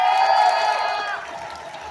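A Dragon Con convention crowd cheers and applauds a Star Wars cast panel. The loud, dense roar of many voices and claps swells at first, then gradually settles.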